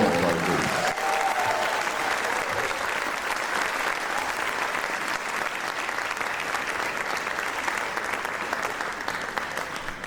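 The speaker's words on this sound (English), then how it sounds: "let's give one more round of applause to all of our groups." An audience at a summer music camp finale gives a round of applause for the chamber groups, a steady, loud wash of clapping that lasts throughout, with a few voices mixed into the crowd.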